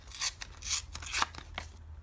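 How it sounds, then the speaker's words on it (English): A paper notebook's front cover is torn off in a few quick rips, each short and crisp, with a brief final tear near the end. "I'm going to take the front cover and simply rip that off"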